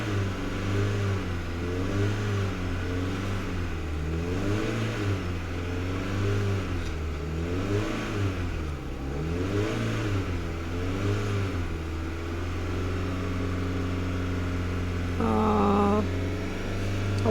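A Peugeot 406 with the EW10J4 engine and automatic gearbox held around 3,000 rpm, a steady close mid-pitched hum that swells and dips in repeated waves before settling, with no talking.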